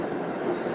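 Brussels tram rolling through a former car tunnel, a steady, moderately loud rumble of wheels on rail echoing close by without any breaks.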